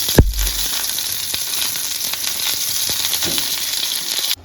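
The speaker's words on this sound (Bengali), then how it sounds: "আমরা ওই তেলের মধ্যেই 5 ফোড়ন অল্প করে আর অল্প একটু রাঁধুনি ফোড়ন দিচ্ছি।" Five-spice and radhuni seeds hit hot oil with a sharp crackle, then settle into a steady close hiss of sizzling that runs throughout with no talk, in the tempering step for a Bengali shukto.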